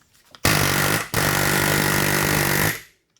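A 30 mm 12-point socket is pounded onto a strut nut on a 2001-2005 Toyota RAV4, a loud, harsh, sustained metallic burst that breaks briefly and then resumes before cutting off, heard close with no voices.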